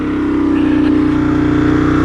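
Aprilia Tuono Gen 1 motorcycle with a twin plug cylinder head, its engine giving a loud, steady, pulsing drone close by that stays even for about two seconds with no voices.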